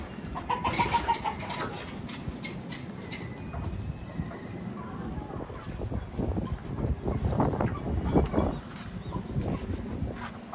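Doves in a zoo enclosure coo and flutter close by, with other birds calling in the background and wingbeats and handling noises building toward the end.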